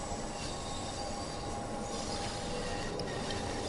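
Bakerloo Line London Underground train in Train Sim World 2, wheels grinding and squealing along the rails as a steady, loud metallic rumble with a high screech on top.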